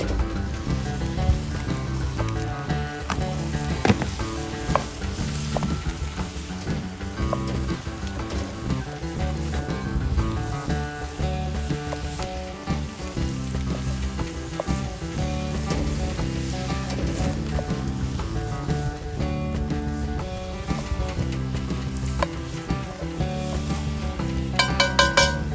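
About two and a quarter pounds of ground hamburger browning in a Dutch oven, a continuous loud sizzle and crackle of frying meat, close up, with occasional scrapes of stirring against the pot.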